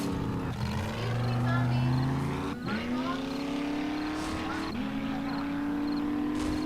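A video game truck with a massive plow ram on the front: its engine drones steadily, pitch climbing through gear shifts, with talk running over it throughout.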